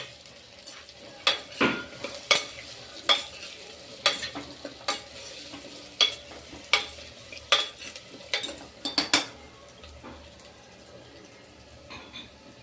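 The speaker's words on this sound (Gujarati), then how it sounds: "પહેલા બટેકીને આપણે તેલમાં થોડીક વાર ખાવા દઈશું।" Small potatoes frying in oil in a pan, a soft continuous sizzle broken by repeated sharp scraping and clinking of a spoon stirring against the metal, roughly a dozen knocks before it settles to quiet frying.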